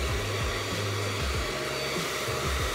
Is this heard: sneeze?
no